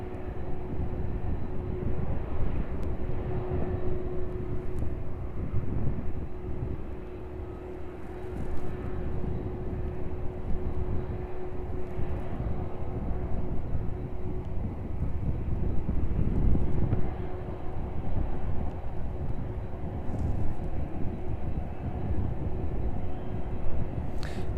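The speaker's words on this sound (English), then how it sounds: "Safely arriving onto stand there, the DHL 767 in from New York" A DHL Boeing 767 in from New York taxis onto its stand, its engines a steady, rumbling whine with a faint tonal hum. The sound carries at moderate distance, fluctuates gently and runs alone without talk.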